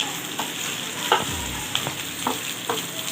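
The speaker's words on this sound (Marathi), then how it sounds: "त्याच्यात मिरच्या चांगल्या फ्राय करून चांगल्या भाजून घ्यायच्या मिरच्या" Green chillies fry in hot oil for a curd chilli dish, a continuous close sizzle broken by several spoon-against-pan scrapes and knocks as they are stirred.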